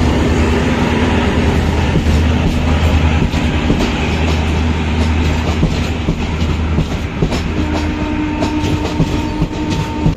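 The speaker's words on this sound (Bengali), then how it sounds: "এখানে একের পর এক এক্সপ্রেস, মালগাড়ি, এমনকি ওই লোকাল ট্রেন সব পাস করানো হচ্ছে।" Express, goods and local trains pass close by a halted train: a loud, steady rumble of wheels on rails with rhythmic clickety-clack, low droning tones and occasional brief squeals, with no talking.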